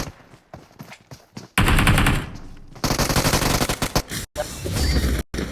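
Rapid bursts of automatic gunfire in a team-based battle royale shooter, loud and close, with dense sustained volleys broken by brief gaps, no speech over the shots.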